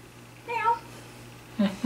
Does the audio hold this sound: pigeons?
no